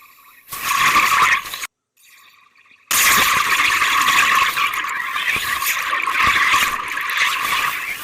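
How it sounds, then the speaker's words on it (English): Scuba regulator in a massive free flow underwater, a loud, steady rushing hiss of escaping air that cuts out briefly and then roars back continuously for several seconds. "I'm about to have a massive free flow, and it's going to blow the regulator out of my mouth."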